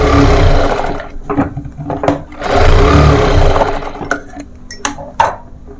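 A sewing machine stitches the shoulder seam of a baby frock in loud, close bursts of rapid whirring, pausing between runs for short clicks and handling noises.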